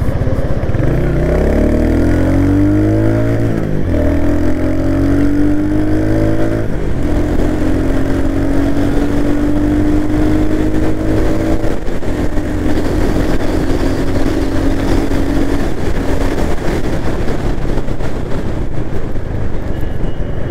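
A 2022 Royal Enfield Hunter 350 motorcycle accelerates hard through its gears, the engine note climbing steadily in pitch, dropping briefly at each shift and then rising again, loud and close, with no talking.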